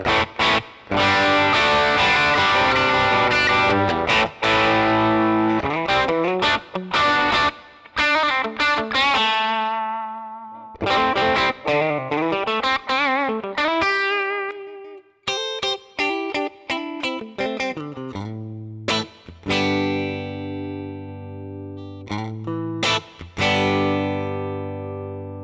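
A PRS electric guitar on the bridge pickup plays through a NUX Mighty Plug with distortion, ping pong delay and plate reverb, with chords and single-note runs ringing out and echoing across roughly 25 seconds, loud with no talking.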